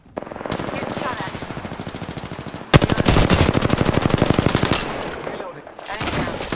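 Rapid automatic gunfire in Apex Legends, loud sustained bursts with a sharp rhythmic stutter, briefly pausing then resuming, no talking over it.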